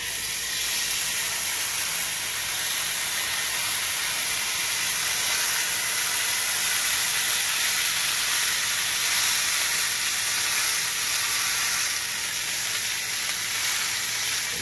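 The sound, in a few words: lamb shank searing in a hot skillet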